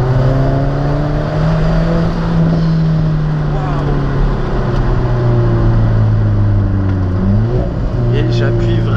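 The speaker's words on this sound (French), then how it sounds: "Ça crépite là en provenance de l'échappement" An Alfa Romeo 4C Spider's engine drones loudly and continuously up close, its pitch sliding up and down as the throttle changes, with exhaust noise throughout.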